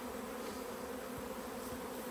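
Honey bees hum steadily on a beehive as they cluster together, a faint, even, continuous drone with no voices.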